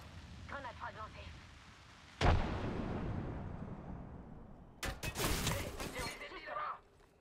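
A frag grenade in Apex Legends detonates with a sharp, loud blast that rumbles off, and a second burst of crackling impacts follows, while someone talks quietly in French over the fight.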